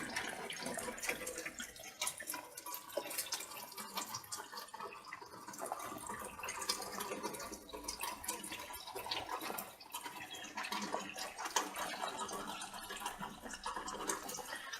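Light rain falls on a homestead with a faint, steady hiss and a scatter of fine drips throughout, distant and even in level with no voices.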